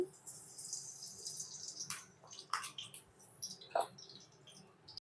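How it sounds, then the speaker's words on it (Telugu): Tempering seeds hit hot oil in a kadai, giving a soft continuous sizzle with a few sharper pops and crackles near the end. "ఆయిల్ వేడైనాక తిరగమాత గింజలు వేసుకోవాలి"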